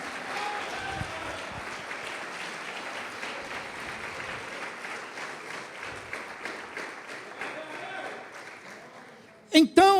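Church congregation applauding, a sustained wash of many hands clapping in a large room, steady and moderately loud for several seconds before a voice cuts in at the end.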